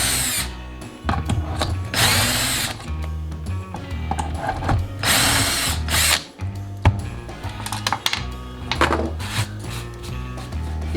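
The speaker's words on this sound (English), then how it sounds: "good to go, and I drill my next set." A power drill whirs in several loud bursts with brief pauses between, drilling shelf pin holes through a Kreg shelf pin jig, close up, with clicks and handling noise in between.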